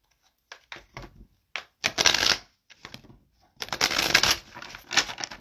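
Tarot cards being shuffled by hand in several quick riffling bursts separated by short pauses, close and fairly loud, with no talking over them.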